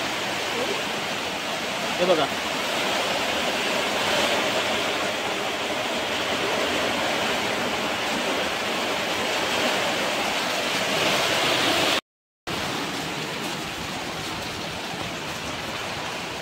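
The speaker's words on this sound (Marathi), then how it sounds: "पाऊस बघा किती जोराचा लागलाय." Heavy monsoon rain pours steadily on a rice farm in the Konkan, a dense, continuous hiss that fills the clip, with a brief voice near the start and a short dropout near the end.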